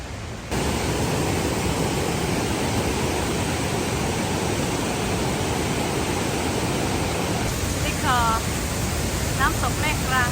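Mae Klang waterfall in Chiang Mai during the rainy season, a loud continuous broadband rush of falling water filling the whole clip, with a few faint chirps near the end.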